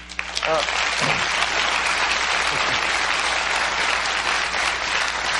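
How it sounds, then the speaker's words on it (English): Loud audience applause swells up after a brief voice, sustained clapping from a large crowd continuing evenly to the end. "easy to get applause here in L.A."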